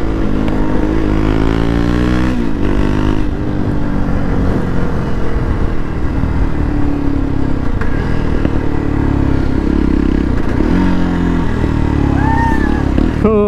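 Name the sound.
motorcycles riding on road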